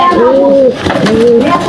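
Pigeons coo in a loft where a hen sits on her eggs, two rising-and-falling throaty coos close to the microphone with faint background noise between them.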